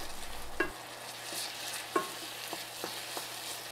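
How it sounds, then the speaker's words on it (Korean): Spam and vegetables stir-fry with soy sauce in a pan, giving a quiet, steady sizzle with a few spaced spatula scrapes and a low hum underneath. "간장은 살짝 태우듯이 졸이면서 재료와 섞어주세요"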